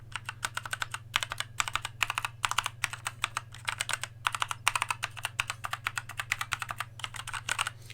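Fingers type on a Rii K66 mechanical gaming keyboard, a fast, continuous patter of crisp key clicks in uneven bursts, close by and fairly quiet, over a low steady hum.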